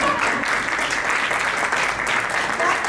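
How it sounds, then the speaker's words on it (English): Audience applause at a Horn of Africa 2023 annual event, a dense steady wash of clapping from a large crowd lasting the whole stretch, with no speech over it. "I give you time to applaud."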